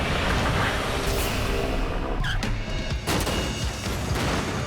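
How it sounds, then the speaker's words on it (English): Practical film explosions from propane jets and kerosene pots on a steel rig roar in dense, loud bursts and rumbling booms, a continuous heavy blast texture with brief sharper cracks. "That fire you see and the explosions you see are practical."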